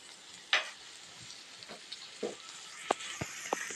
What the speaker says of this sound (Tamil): வெங்காயம் வதங்கிட்டுருக்கு.